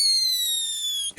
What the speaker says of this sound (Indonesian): Lanjut kita nyalakan mercon Whistling King Thunder warna merah.